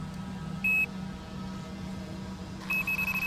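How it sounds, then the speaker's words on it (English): Electronic bite alarm on a fishing rod, baited with flesh on a river bank, giving a short single beep early on and then a rapid run of repeated beeps over steady background hum and outdoor noise. "My two rods are each equipped with an electronic alarm, primed to go off if something makes a grab for the bait."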